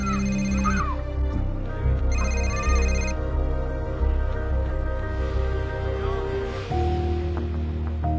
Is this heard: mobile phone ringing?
yes